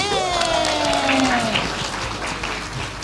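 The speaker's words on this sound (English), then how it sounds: "And a round of applause." A live podcast taping audience applauds loudly and steadily for about three seconds, a dense wash of clapping and crowd noise with a few higher tonal whoops early on.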